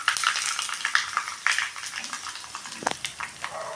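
Dried red chillies and curry leaves sauté in hot oil for a Kerala-style vadukappuli pickle. The crackling, spitting sizzle is close and steady, with sharper pops throughout.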